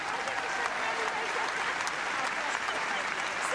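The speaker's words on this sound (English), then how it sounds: "Please keep the applause going." An arena crowd applauds steadily at the Crufts 2024 intermediate/large agility championship final, a continuous wash of clapping heard from a distance with no break.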